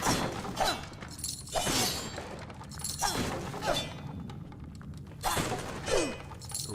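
Breakable objects get smashed in a video game, a series of about five loud crashing, shattering impacts spaced roughly a second apart over steady background game sound.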